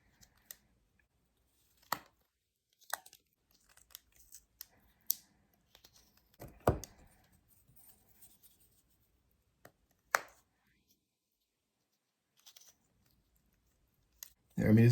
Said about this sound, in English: I also like to whittle. Now granted, this is really soft wood. This is basswood.